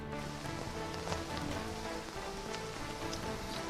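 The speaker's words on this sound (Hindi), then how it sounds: "इस समय नेपाल में भारी बारिश हो रही है" Heavy rain pours down in Nepal as a dense, steady wash of drops beating on surfaces, continuous and fairly close, with no talking over it.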